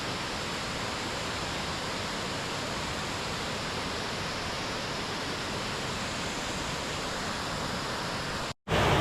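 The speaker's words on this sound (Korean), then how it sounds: "마이클에게 폭포란?" A waterfall roars in a steady, dense broadband rush at close range, filling the whole scene without variation until a brief cut near the end.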